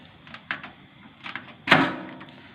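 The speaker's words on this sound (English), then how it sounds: "I close the door." A microwave oven door with a faulty door switch is handled and shut, several soft clicks and rattles followed by a louder thud of the door closing, close up in a quiet room.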